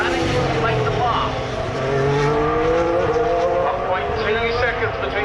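Formula 1 cars at the 2019 race blast past the Turn 11 trackside spot, a loud continuous engine roar with rising and falling pitch as cars pass, under steady crowd and commentary noise.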